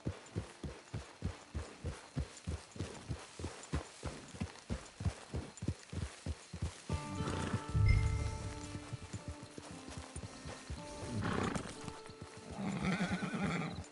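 Horse hooves clip-clop at a steady walking rhythm in the video game Red Dead Online, then a horse whinnies loudly, with game ambience after.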